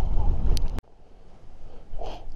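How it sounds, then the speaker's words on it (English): Strong wind gusts buffet the microphone on the west side of Dunedeer Lake, with heavy rumbling bursts. They break off sharply, then return more softly and swell again toward the end. "The wind's still screaming"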